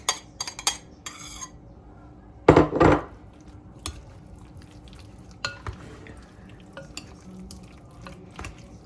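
A salad of fried vegetables including zucchini being stirred and mixed in a bowl, with scattered utensil clinks and scrapes and one louder clattering burst near the start, otherwise quiet and close.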